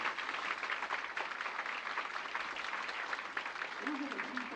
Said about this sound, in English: let's give our ushers here a nice round of applause